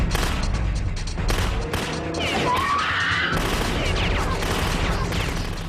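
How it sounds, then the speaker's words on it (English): Suppressive fire from Tavor rifles: sustained loud bursts of automatic gunfire, rapid continuous cracks with crashing impacts, close and dense throughout, with voices partly under it. "We use the Tavors to put down suppressive fire until we're out of range."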